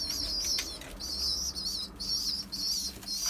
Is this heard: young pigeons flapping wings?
yes